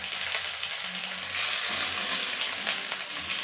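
Cauliflower, beans and chopped tomato fry in a pan for mung dal, giving a loud, continuous hiss and sizzle with faint stirring scrapes.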